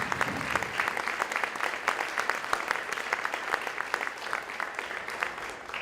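A crowd at a mayors and councilmembers gathering gives Congressman Jared Huffman a round of applause, dense, sustained clapping from many hands throughout.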